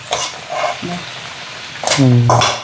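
Masala powder sizzles in a pan as it is fried and stirred for a crab curry, with a steady crackle and scraping strokes of a ladle close by, and a voice speaks briefly near the end.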